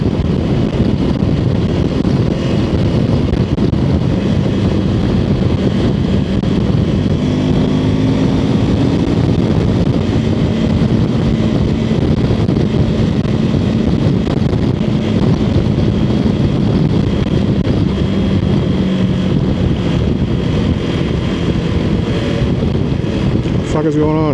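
Wind rushes steadily past a cracked-open helmet visor while riding on a highway, a continuous loud broadband roar mixed with engine and road noise and faint tonal whine throughout.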